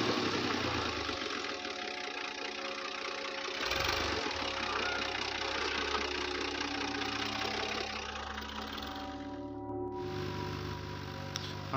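A tractor engine runs steadily in a field during planting work, a loud, continuous mid-pitched rumble with a slight knocking character and a brief dip near the end.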